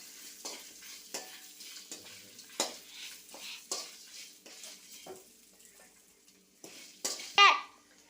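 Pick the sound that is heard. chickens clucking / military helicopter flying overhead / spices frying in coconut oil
spices frying in coconut oil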